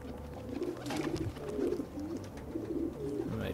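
Pigeon cooing in Assassin's Creed II, a series of soft, throaty low coos repeating close by with brief gaps between them, over a faint ambient background.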